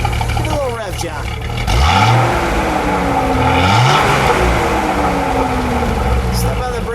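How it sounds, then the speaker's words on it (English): A 1976 Datsun 280Z 2+2 four-speed revs in a couple of short blips over its idling exhaust, close and fairly loud, with voices talking over the engine. "Give it a little rev, John."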